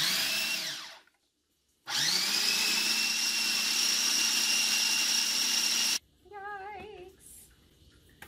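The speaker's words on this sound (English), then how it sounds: "I really should have maybe got a bigger food processor." Small food processor chopping walnut halves, dates and apricots: a loud, steady motor whir runs briefly, stops for about a second, then runs again for four seconds before cutting off, with a fainter wavering tone afterward.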